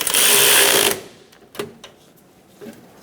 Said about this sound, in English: Snug down the 12mm nut on the bottom of the alternator.